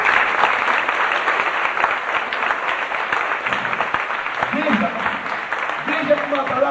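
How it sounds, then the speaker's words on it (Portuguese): Church congregation applauding during a sermon, a steady, dense wash of clapping that holds for the whole stretch, with a voice rising over it near the end. "Pode aplaudir Jesus."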